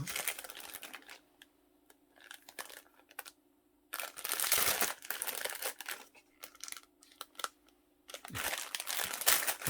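Plastic packaging of fishing lure material crinkles and crackles as it is opened, coming in loud bursts of rustling separated by quieter gaps with a faint steady hum beneath.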